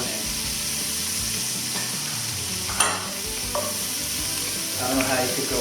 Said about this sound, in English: So we're going to stir this around.